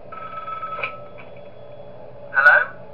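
A telephone rings in the horror game Five Nights at Wario's 2, with two short electronic ring bursts, the second louder, over a faint steady hum.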